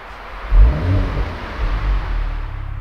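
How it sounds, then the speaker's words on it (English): A 2021 Mercedes-AMG E53 convertible's engine fires up with a loud low rumble and swell right after ignition, then settles into a steady, deep idle close by. "So I will just start the engine by pressing the downshift for emotion start of AMG."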